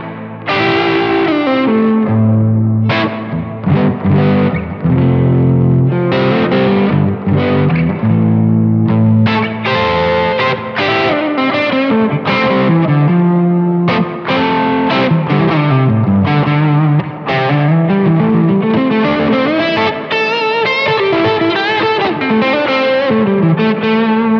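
An electric guitar played through a tiny Simplifier MK2 pocket amp, soaked in reverb from an HX effects unit, rings out in strummed chords and picked melodic lines, loud and continuous with no speech.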